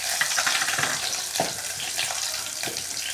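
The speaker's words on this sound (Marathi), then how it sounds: "1 छोटा चम्मच आपण त्यामध्ये लसूण अद्रक पेस्ट टाकू। ती छान कलर येईपर्यंत परतून घेऊ" Ginger-garlic paste sizzling and frying in hot oil with cumin seeds while it is stirred, a steady close crackle with occasional spatula scrapes, no voices.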